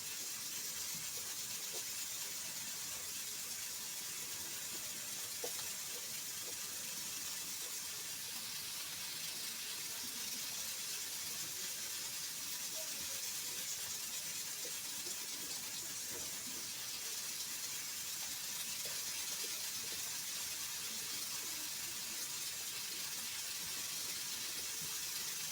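A faulty pressure cooker, worn out from constant use, hisses steam on the stove: a faint, steady, unbroken rush of air that carries on evenly throughout.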